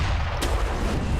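An enemy cannoneer fires a cannon in Sekiro, one sharp blast cutting through a steady background rumble, fairly close.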